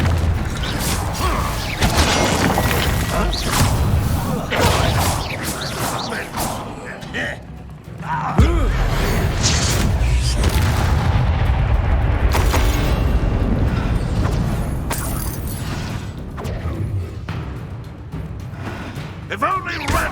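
Explosive spell blasts in the Hogwarts Legacy video game, heavy booms and crashing impacts in busy combat with thuds and rumbling, plus voices speaking over the fight.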